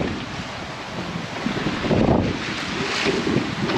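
Wind buffets the microphone aboard a sailboat sailing on a beam reach off northern Sicily, a continuous rushing roar with swelling gusts and water wash beneath.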